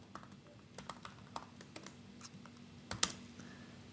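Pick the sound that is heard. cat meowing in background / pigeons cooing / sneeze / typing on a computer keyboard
typing on a computer keyboard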